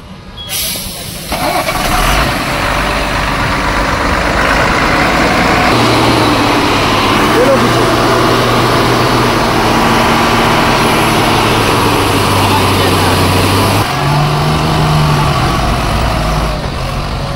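A truck loaded with watermelons starts up and then runs with a heavy, steady engine drone while it reverses. The engine is close and loud throughout, and a brief tonal shift comes near the end.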